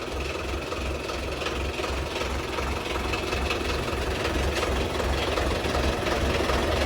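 A steady, low John Deere tractor engine rumble idles without pause, a continuous chugging drone with faint rattles on top and no voices.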